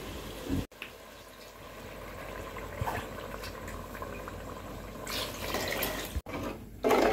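Water pours steadily into a pot of rice with a soft gurgling fill, interrupted by a couple of brief clunks, close by and without talking.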